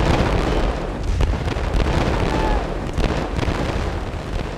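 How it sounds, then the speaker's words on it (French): Massed cannon fire from about 80 guns opening on the English line at the Battle of Waterloo makes a dense, continuous rumble broken by deep booms, loud and unrelenting throughout. "Vers 13 h 30, 80 canons ouvrent le feu contre la ligne anglaise."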